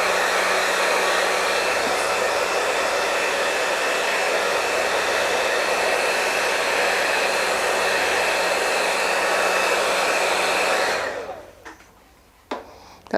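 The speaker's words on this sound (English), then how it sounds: "I'm just going to zip this with the blow dryer" A hair blow dryer runs steadily at close range drying a paper craft piece, a loud even whirring hiss for about eleven seconds before it shuts off and a few small handling knocks follow.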